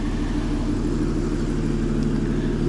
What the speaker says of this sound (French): Vanquish Volante. Écoute ça, écoute ça.